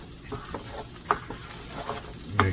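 Chorizo and potato taco filling being stirred in a pan, with a few scattered scraping and clattering strokes over a faint sizzle, quiet and close.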